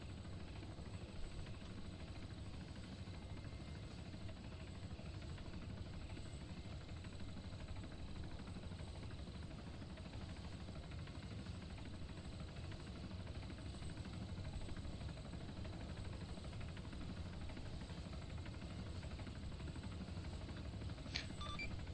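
A searchlight helicopter engine in a military video game drones as a steady, broad rumble that stays level and continuous throughout, with no speech over it.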